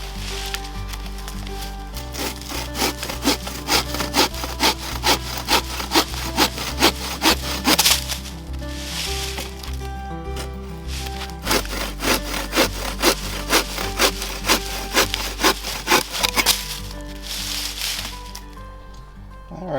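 Firewood being hand-sawn at a snowy winter camp, steady rhythmic back-and-forth strokes, close and loud, with a few short pauses between bursts of cutting.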